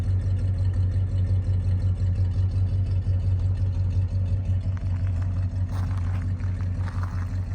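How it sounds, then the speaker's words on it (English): A stock Ford 390 V8 in a 1966 Mercury Cyclone GT idles steadily with a deep, even low rumble, loud and close, with no one talking over it. "Here's what a stock 390 would sound like."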